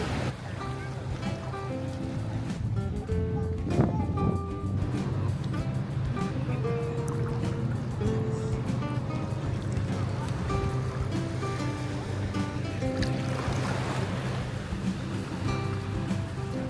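Shallow ocean water at an Oahu beach, a steady wash of surf and lapping waves throughout, with faint tonal sounds mixed in and no clear talk.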